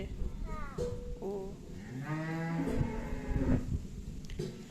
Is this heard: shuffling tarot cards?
no